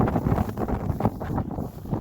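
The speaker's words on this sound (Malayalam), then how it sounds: "സൂപ്പർ കാറ്റാണോ?" Strong wind buffets the microphone in loud, continuous gusts, a rough rumbling roar with slight surges and lulls and no other clear sound on top.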